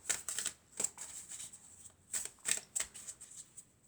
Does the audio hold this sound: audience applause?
no